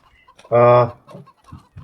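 Chickens on a farm in Farming Simulator 25 give one loud, close cluck with a strong harmonic tone, then a few quieter clucks trail off after it.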